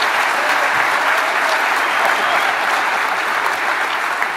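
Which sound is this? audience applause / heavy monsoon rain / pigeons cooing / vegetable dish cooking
audience applause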